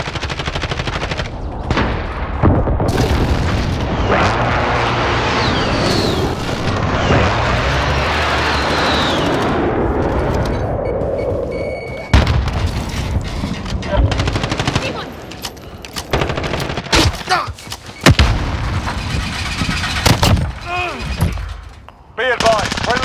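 A precision airstrike in a military shooter video game sets off heavy booming explosions mixed with rapid gunfire, loud and dense throughout, with a radio-style voice calling out in the game.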